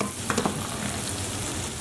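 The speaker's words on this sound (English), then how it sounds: "I'm just going to add a touch of red wine in" Red wine splashed into a pan of softened onions for a spaghetti-and-meatballs sauce, producing a steady close sizzle with a couple of brief stirring scrapes near the start and no talking.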